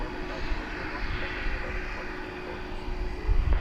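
A UPS MD-11 freighter takes off from runway 18 left at DFW at night, its broad engine roar steady and moderately distant, swelling slightly toward the end, with a thin steady tone running through it.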